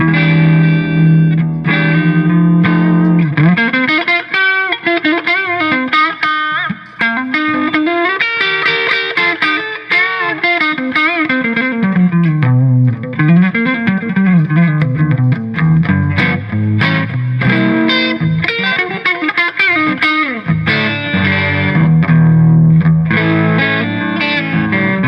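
Electric guitar played through a DIY single-ended Plexi-style tube amplifier with power tubes such as 6V6 or EL34, a loud, continuous, distorted melodic line with sustained notes and gritty upper-midrange growl.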